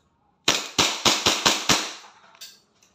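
A DB 1911 MEU semi-automatic airsoft pistol fires six sharp, close, loud shots in a quick irregular string, followed by a fainter metallic clack and a small tap as the slide locks open.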